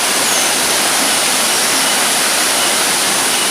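A tall waterfall of about 110 meters in the Subang interior, running low in the dry season, pours as a steady, dense roar of broadband rushing water, close and continuous with no voices.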